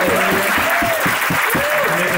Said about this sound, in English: I think they're deserving a round of applause